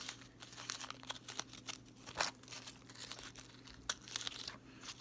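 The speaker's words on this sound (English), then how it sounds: "So now I'm going to come around here and just rip it off." Material being torn off a Dollar Tree craft ornament, heard as quiet, repeated crinkly ripping and crackling bursts over a steady low hum, with one sharper tear near the middle.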